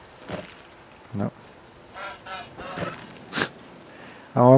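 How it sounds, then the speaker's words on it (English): Chicken squawks in the game Force of Nature 2 come as several short, harsh honking calls spaced irregularly, with a louder, sharper cry at the end, fairly close and without talk. "Come on, chicken, don't run away."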